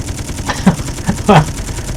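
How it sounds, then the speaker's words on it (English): A Gatling gun fires in the Space Engineers video game, heard as a few loud, short bursts of rapid gunfire with brief gaps between them. "Gatling gun. Show it on the hood. Shoot."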